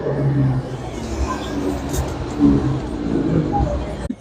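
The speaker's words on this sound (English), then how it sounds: "I'm going to let that car go by because it's slow." A slow car rolls past on a busy street in Gatlinburg in the Smoky Mountains, a steady engine and tyre rumble that swells slightly mid-pass, with crowd voices around it.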